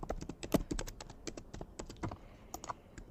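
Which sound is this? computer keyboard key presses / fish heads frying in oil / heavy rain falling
computer keyboard key presses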